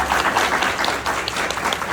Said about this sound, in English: If everyone can give Dr. Freeman a huge round of applause